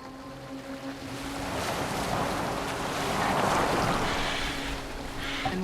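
Boat sailing across open water in Assassin's Creed Valhalla, a steady wash of waves and wind around the hull that swells slightly midway, with no talk.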